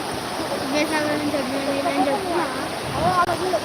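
Floodwater released through the opened Himayat Sagar dam gates rushes along the river in a loud, continuous torrent while people talk over it.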